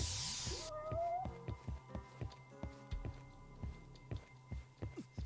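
A cat meows once in the video game Judgment, a short rising-falling call near the start, followed by a steady run of soft rhythmic thumps like footsteps in the game.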